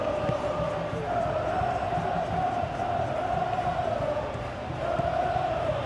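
Stadium crowd noise in the football game PES 2021, a steady roar with a rising chant swelling across the stands, continuous and fairly loud, with no voices standing out.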